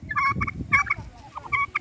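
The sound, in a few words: turkeys gobbling on a turkey farm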